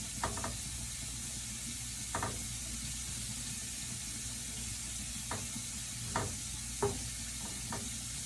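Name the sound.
whisking oil and butter for chicken soup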